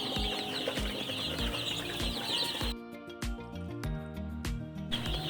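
Chickens in a flock cluck and call against a dense, steady background of music-like tonal sound, the clucks short and scattered throughout.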